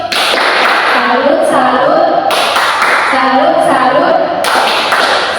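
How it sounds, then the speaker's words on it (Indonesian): A school class claps in a rhythmic salute pattern of bursts separated by short pauses, with voices chanting along. "Oke, tepuk salut."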